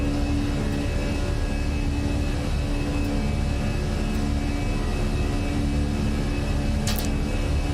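Steady, dense roar of A320 jet engines at climb thrust inside a flight simulator, continuous and fairly loud with a constant hum, alone without talking.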